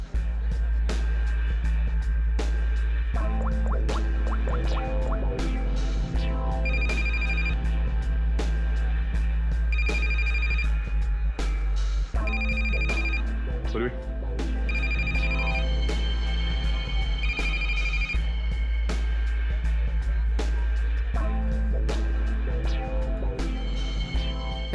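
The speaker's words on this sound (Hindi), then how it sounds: "इस रचना को फोन लगा।" A phone rings during a CID crime scene, repeated electronic ring bursts at regular intervals over a steady low hum, moderately loud.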